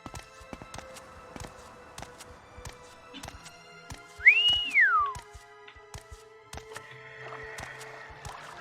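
A single rising-then-falling whistle, clear and fairly close, over quiet background tapping and faint clicks.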